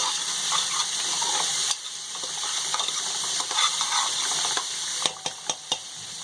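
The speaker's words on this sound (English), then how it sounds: "I'm searing the hell out of it" Meat searing for a Peruvian-style pot roast in a hot pan over high heat, a steady loud sizzle and crackle with a few sharp clanks of utensil against the pan near the end.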